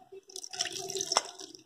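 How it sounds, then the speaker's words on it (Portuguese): A glass of water poured into a pot for boiling a homemade herbal remedy of bark and roots, heard as close, light dripping and splashing with a brief brighter splash near the end. "Aí eu levo o um copo de água"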